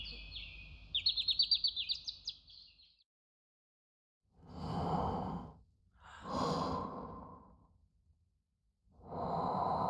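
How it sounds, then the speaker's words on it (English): A character in the Cupid Parasite visual novel breathes softly in slow, separate breaths with silent pauses between them, close and quiet, following a short chirpy tone at the start. "That's breathing. He's just breathing"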